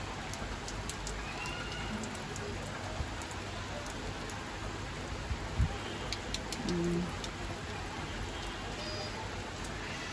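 Steady midday rain falls across neighbouring rooftops, a dense even hiss with scattered faint drips and a soft bird call or two, no voices.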